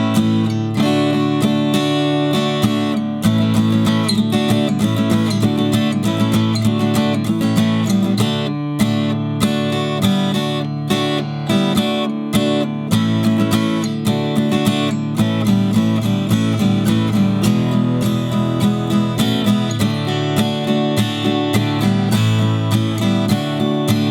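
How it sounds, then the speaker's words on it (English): A song's rhythm and solo part on guitar at a slow tempo, a continuous strummed and picked line with a steady chugging pulse, loud and alone, without talking. "I'm going to demonstrate it for you at a slow tempo,"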